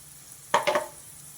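A spice tempering with fenugreek powder and asafoetida hits hot oil for a Mysore dal rasam. It gives a sudden brief sizzle burst in two quick pulses, then quiet returns.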